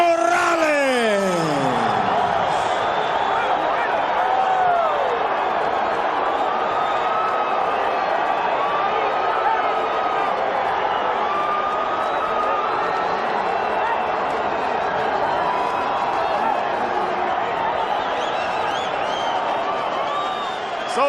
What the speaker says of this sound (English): So the crowd reacts to the split decision in favor of Erik Morales